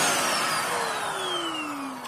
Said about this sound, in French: il est relativement bruyant car c'est un aspirateur cyclonique